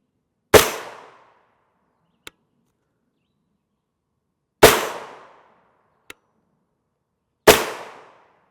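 Three sharp gunshots from a CZ Scorpion Evo fired at soft body armor crack out one by one with short decaying echoes, separated by a few seconds of silence and faint clicks in between.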